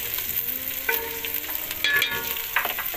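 Bay leaf frying in hot oil in a pan for Sindhi sagh, a close, crackling sizzle with scattered sharp pops and spatters, alone without talk.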